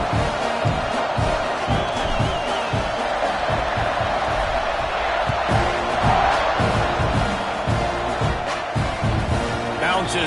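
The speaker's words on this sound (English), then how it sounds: "this crowd is buzzing after that last score" Steady stadium crowd roar from a college football video game featuring Notre Dame, a dense continuous buzz of cheering and whoops filling the background throughout while a commentator talks over it.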